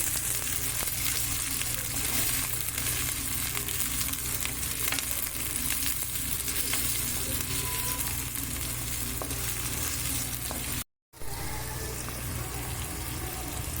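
Fish pieces are mixed with salt in a frying pan for a lemon fish pulusu, giving a dense, continuous sizzle with scraping stir noises throughout and a brief dropout near the end.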